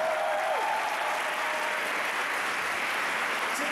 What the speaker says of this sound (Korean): 다시 한번 이 세 분께 박수를 부탁드리겠습니다.